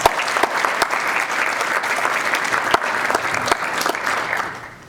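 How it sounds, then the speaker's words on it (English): An audience at a keynote speech breaks into loud, sustained applause, dense clapping with a few sharper individual claps, fading toward the end. "Let's give them a round of applause."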